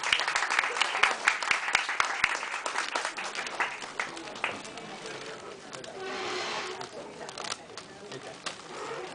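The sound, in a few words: audience applause at a poetry event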